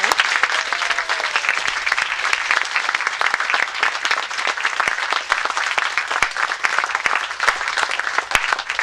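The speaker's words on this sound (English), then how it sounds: "A big round of applause." An audience at a poetry reading gives a big round of applause, a long, dense, sustained stretch of clapping with sharp individual claps standing out near the listener.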